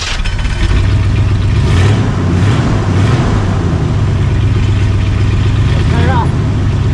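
A Jeep J10 crew cab's engine runs steadily and loudly at close range with a continuous low rumble, while people talk briefly over it.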